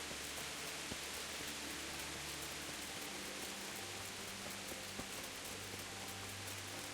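Rain falls steadily in the medieval video game Kingdom Come: Deliverance, a soft, even hiss of drops with no talking.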